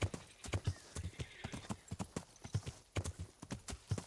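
Pebbles the horse in Kingdom Come: Deliverance clops along on hooves in a quick, steady rhythm with a brief whinny, faint and close, mixed with a little speech.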